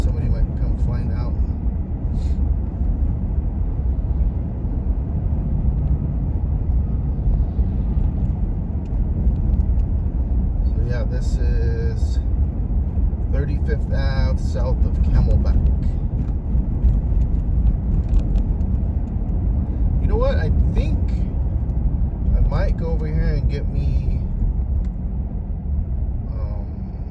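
A car creeps slowly through parked traffic in Phoenix, its engine and road noise forming a steady low rumble throughout while a person talks over it.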